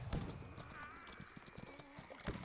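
Horse hooves clip-clop in a Civil War video game, a faint, uneven run of hoofbeats under distant battle noise and a whinny-like tone.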